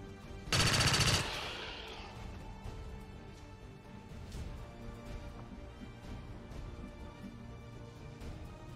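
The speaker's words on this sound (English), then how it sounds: "You can fire your pistol." Gunfire in XCOM 2: a single loud, harsh burst of shots lasting about half a second, followed by a long fading rumble and quiet game ambience with occasional soft impacts.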